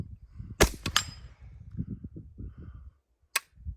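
Shots from a retro 9mm AR rifle ring out as two sharp, loud reports close together early on, then a third crack a few seconds later, over low background rumble and handling noise.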